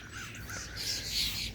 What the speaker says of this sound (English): That bird's over here fighting.